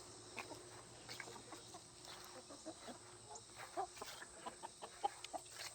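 Cornish cross chickens on a farm, soft scattered clucks and short calls repeating irregularly at moderate distance over a faint steady background hum.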